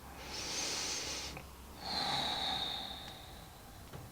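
Two slow, deep breaths in a quiet room during a yin yoga hip-opening pose, each a long airy exhale lasting over a second, close and soft, with a brief pause between them.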